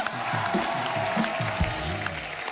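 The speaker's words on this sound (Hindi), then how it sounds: "खतरनाक टीम के लिए जोरदार तालियां हो जाए" A studio audience on Kapil's comedy show applauds in a steady wash of clapping, with a voice or two carrying over the top throughout.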